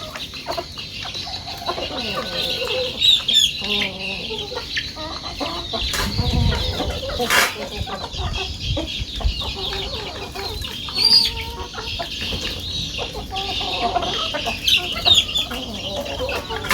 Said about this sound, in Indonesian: Ayam hutan.